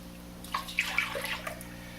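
A cup of milk poured into two beaten eggs for cornbread, giving a short, splashy liquid pour with a few soft plops over about a second, close and fairly quiet, with no talking.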